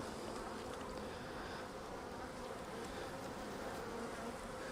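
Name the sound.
honeybees buzzing during hive split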